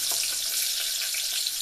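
Onions frying in a pan for a Kenyan ugali mayai dish, a steady close hiss of sizzling oil with faint crackles and no voices.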